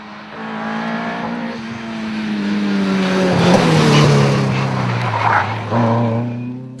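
Rally cars at the Tour of Mull, a Corsa kit car and a little Ford Anglia, engines rising and shifting pitch as they approach and pass close by, loud and continuous with revving bursts.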